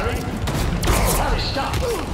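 Weapon fire and blasts from the video game Spider-Man 2, a dense, continuous barrage of bursts and thumps lasting throughout, loud and close, with a voice audible over it.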